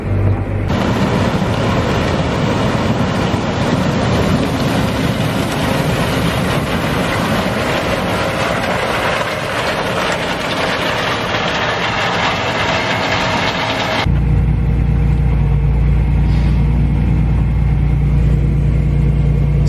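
Farm vehicle driving alongside a working combine in a grain field, a loud continuous engine and rolling rumble with rattling, the tone shifting abruptly about fourteen seconds in to a deeper, steadier drone.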